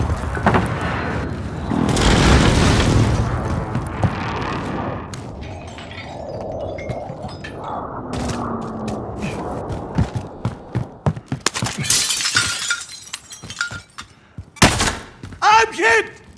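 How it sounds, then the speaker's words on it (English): Precision airstrike explosions and gunfire in Call of Duty Warzone, a chaotic stretch of heavy blasts and crackling shots with shattering debris, voices talking over the din and sharp bursts near the end. "Precision airstrike! Get down!"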